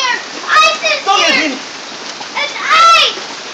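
Hailstones fall outdoors during a February hail storm, a steady broadband patter and clatter running under excited children's and adult voices.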